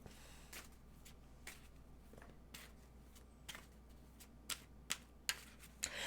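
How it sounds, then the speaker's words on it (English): Tarot and Lenormand cards being shuffled by hand, a soft papery riffle with scattered sharp card snaps that grow more frequent toward the end, quiet and close. "Shuffle, right? Yep."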